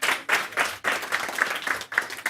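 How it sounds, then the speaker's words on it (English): An audience applauds, a dense crackle of many hands clapping in surging waves that continues throughout. "Big round of applause for Palle and Søren."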